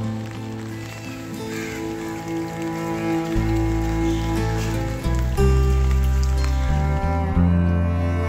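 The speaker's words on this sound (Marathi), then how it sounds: "गेले 2 दिवस भरपूर पाऊस चालू आहे" Heavy monsoon rain falling steadily through a flood in Mahad, with swollen river water nearby; a dense, continuous wash of rain noise stays loud and unbroken throughout, with occasional bumps and shifts in the background.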